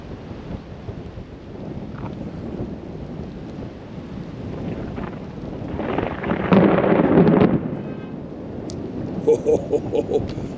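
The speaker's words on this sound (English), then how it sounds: "Crazy freaking storm just coming in right now off Lake Erie." Wind-driven thunderstorm noise as a storm rolls in off Lake Erie seen from a small boat, a continuous rumbling buffet that swells louder in the middle, with a person talking.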